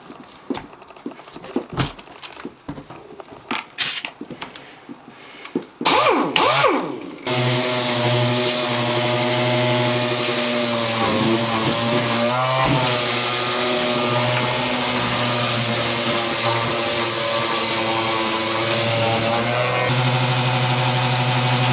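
A power sander works over ash wood at 120 to 240 grit, starting with a few scattered knocks and handling sounds before settling into a steady, loud, continuous whir that runs on alone.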